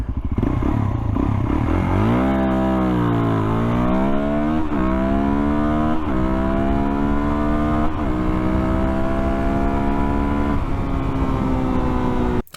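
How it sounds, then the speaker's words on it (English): Suzuki DRZ400SM motorcycle doing a first-gear launch for a 0 to 60 run: loud, close engine roar that idles, dips, then climbs repeatedly through quick gear changes before cutting off abruptly at the end. "we're gonna do one final first gear launch for a 0 to 60 time"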